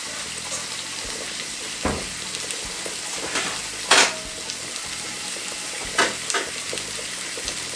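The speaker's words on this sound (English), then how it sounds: "You just take a time and fry the salmon." Salmon pan-frying in a skillet, giving a continuous close sizzle with several sharp stirring or utensil clicks scattered through it.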